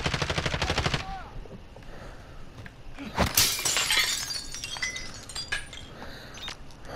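Rapid gunfire in Call of Duty Warzone rattles in a quick burst, then glass shatters, followed by scattered shots and debris under faint background talk.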